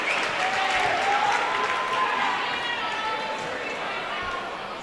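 High-school basketball crowd at a boys' game between Pierre T.F. Riggs and Sioux Falls O'Gorman, fans clapping in appreciation, a broad wash of applause that gradually thins and fades toward the end, with a voice faintly over it.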